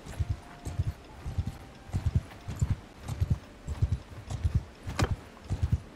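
Horse hooves galloping in Mount & Blade II Bannerlord, a steady rhythmic clip-clop of paired hoofbeats repeating about twice per second, fairly close and clear with little else.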